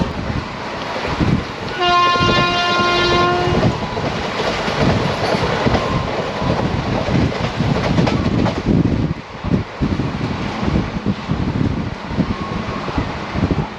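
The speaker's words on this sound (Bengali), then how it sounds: "আবার এই ট্রেনটাই করে এখান থেকে যাবো মারগাঁও" Goa Express passenger train running between Mangalore and Belgaum, a steady loud rumble of rolling wagons throughout, with a sustained horn blast early on and faint bird calls mixed in.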